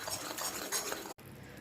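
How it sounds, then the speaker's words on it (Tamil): A spoon stirs cardamom powder into boiling sugar syrup in a pan, giving faint scraping and light clinks against the metal before a brief cutoff. "இதையும் சேர்த்து நல்லா கலந்து"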